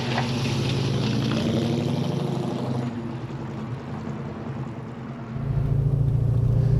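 A 1970 Chevelle SS with a 502 big-block V8 rumbles loudly and steadily up close, easing slightly mid-clip before the low engine drone swells again near the end, with no talking.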